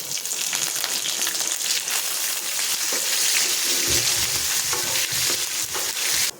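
Green chillies and curry leaves fry in oil over medium-low heat for a Gujarati moraiya khichdi, giving a steady, close sizzling crackle with occasional stirring scrapes and no voices.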